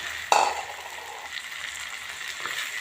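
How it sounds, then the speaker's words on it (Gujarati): Bottle gourd dropped into a hot pan with roasted tomato: a sudden sizzle that then settles into a soft, steady frying hiss. "હવે આપણે દૂધી નાખી દઈશું અંદર."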